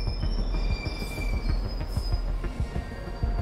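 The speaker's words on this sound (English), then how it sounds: "It's okay, my train's here now," A train pulls into a station in the horror video game The Ghost Train, wheels clicking in a steady rhythm over the rails with thin metallic squeals riding above, close and sustained.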